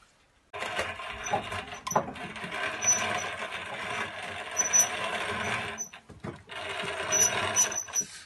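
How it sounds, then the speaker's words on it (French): Grain mill grinding wheat for a first home brew batch, a steady close mechanical whirring and rattling that starts abruptly, briefly dips, then resumes. "là je moule le blé"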